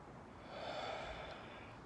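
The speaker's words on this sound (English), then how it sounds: "Let's breathe the third time." One slow, deep breath, drawn in audibly and heard close and fairly soft, swelling in the middle and easing off, with no talking.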